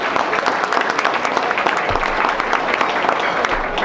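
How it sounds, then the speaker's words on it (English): Audience at an evening gala giving the event co-chairs a big round of applause, loud, dense clapping from a full room sustained throughout without pause. "So big round of applause for the co-chairs"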